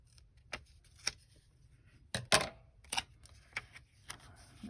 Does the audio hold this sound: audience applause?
no